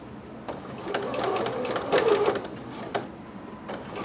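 A domestic sewing machine back stitches at the end of a seam on a garment section, its motor whirring in short bursts of rapid needle clatter that speed up and pause, close and fairly loud with no talking.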